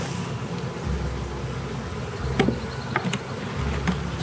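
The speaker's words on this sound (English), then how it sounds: "There's a lot of bees in there already." A swarm of bees buzzes in a low, steady drone, with a few faint clicks and knocks nearby and no voices.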